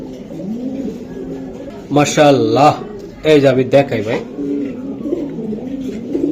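A brick-coloured male racing pigeon from a 2025 club race coos in low, rolling phrases close by, while someone talks over it in two short bursts.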